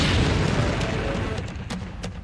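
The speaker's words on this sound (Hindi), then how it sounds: "यूक्रेन के एक राष्ट्रीय स्मारक के पास पुतिन का ड्रोन फटा।" A drone explodes near a national monument in Lviv, western Ukraine, giving a loud, rumbling blast that rolls on and slowly fades, with a few sharp cracks near the end.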